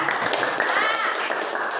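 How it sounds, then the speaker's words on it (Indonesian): A short burst of clapping from a classroom group, a dense patter of hands filling the whole moment. "Oke, tepuk tangan dulu untuk kelompok 2."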